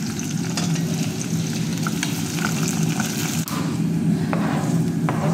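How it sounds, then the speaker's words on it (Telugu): Chopped onion frying in hot oil in a home kitchen, a steady dense sizzle with occasional soft pops and stirring clicks, close and continuous. "ఆల్రెడీ నూనె కాగింది. ఇప్పుడు అందులోకి ఎర్రగడ్డ కొంచెం దోరగా వేసుకున్నాను."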